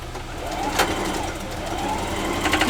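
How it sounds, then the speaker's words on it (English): A sewing machine runs steadily, stitching a 1/4 inch quilting seam on a two color block, its close, continuous mechanical whir holding for a few seconds with no talking over it. "you can sew it without cutting it, as long as it matches"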